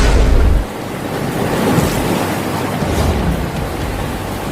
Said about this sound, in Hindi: देखो बिजली गिर रही है गांव में